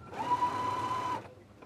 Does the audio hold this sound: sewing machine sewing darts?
yes